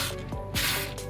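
Rust cleaner sprayed onto the center of a car wheel hub on a 2005-2009 Subaru Legacy/Outback, heard as short close hissing spray bursts over a steady background hum.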